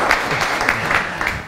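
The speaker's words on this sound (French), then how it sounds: "Est-ce qu'on va applaudir pour l'honnêteté?" Listeners at a sales training talk break into a short, brisk round of applause, a steady, fairly loud patter of many hands that lasts barely a moment.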